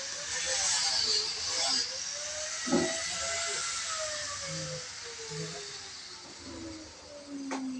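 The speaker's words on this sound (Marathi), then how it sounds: "हे असं करवत आहे, ह्याच्यामधून लाकड कापले जातात." A circular saw in a timber yard cutting through wood: a loud, high whining hiss whose pitch slowly sinks as the blade bites into the log, with a few knocks from handling the timber.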